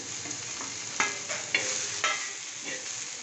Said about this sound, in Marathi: ह्याच तव्यावर आपण आता भाजून घेऊ